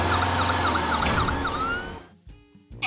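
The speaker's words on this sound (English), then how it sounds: "Hit the siren!" A fire truck's loud wailing siren sweeps up and down close by, then cuts off abruptly, leaving a few faint knocks and rustles.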